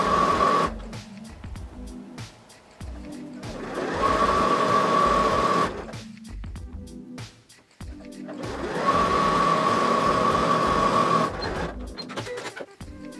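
Sewing machine stitching the side seams of a viscose challis skirt, two steady runs of fast mechanical whirring separated by short pauses, close and moderately loud.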